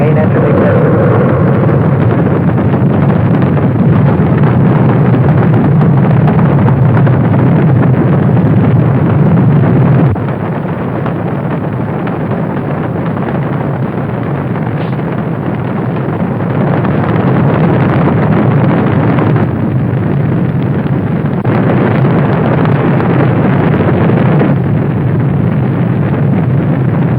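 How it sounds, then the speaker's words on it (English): Space Shuttle Columbia's main engines ignite and the launch roars on as a loud, continuous low rumble, heavily band-limited and steady for nearly half a minute with small shifts in level. "We have main engine ignition."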